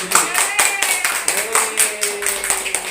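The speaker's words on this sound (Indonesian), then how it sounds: "Untuk kasih tepuk tangan" Indoor training-session audience applauding in a loud, steady burst of many hands clapping, with the rhythm of the claps audible throughout and a voice faintly underneath.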